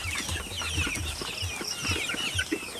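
Chickens and roosters in a backyard flock clucking and murmuring together, overlapping bursts from several birds at close to moderate range, continuous chatter with no talk.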